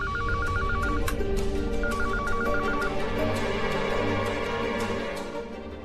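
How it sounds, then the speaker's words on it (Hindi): A telephone rings in two quick trilling bursts over a steady, loud background hum. "कहाँ का फोन बज रहा है?"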